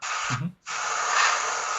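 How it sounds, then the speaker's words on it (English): A hobby airbrush hisses steadily as it sprays paint onto a scale model, a close, continuous rush of air broken by one short pause, with a brief low breath in the gap. "I think that's just my airbrush"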